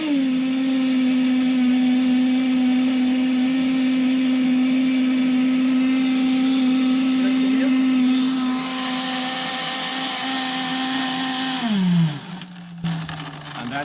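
A small electric drone motor runs with a steady high whine and harmonic hum, holding pitch for about eleven seconds before winding down and stopping near the end; no talking.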